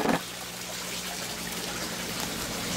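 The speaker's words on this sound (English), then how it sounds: "the water flow has slowed down a lot" Slowed water flow in a hot tub aquaponics system, a steady trickling wash with a faint low hum beneath, continuous and fairly close, with no talking.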